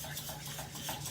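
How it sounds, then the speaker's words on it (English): Egg whites for a chocolate soufflé are whisked in a bowl, producing a brisk, continuous rhythmic swishing and light tapping, close and steady throughout the short stretch, with no speech. "you just want to whisk it through until you start getting peaks"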